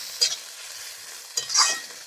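River prawns fry in a pot, with two short bursts of sizzling and stirring separated by a quieter stretch, close and fairly soft, and no talk.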